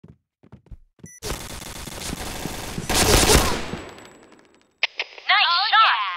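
Gunfire in the shooter Point Blank, with a dense burst of rapid automatic shots building to a loud peak, then tailing off, followed by electronic game tones and a voice speaking near the end.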